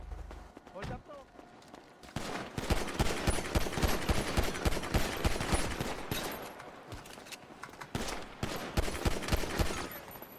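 Rapid bursts of gunfire in a GTA roleplay video game, dense crackling shots repeating across most of the stretch, with some voices in the mix.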